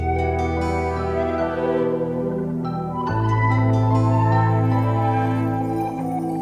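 A song plays as a continuous stretch of layered instrumental music with sustained tones and a fuller, deeper section entering midway, no talking over it.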